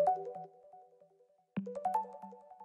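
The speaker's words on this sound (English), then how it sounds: "today we'll craft our demo song around a melodic loop from our free loop pack" A melodic synth loop from a free loop pack, with short tonal phrases over a low bass note, a near-silent gap midway, then the melody returning with a sharp accent.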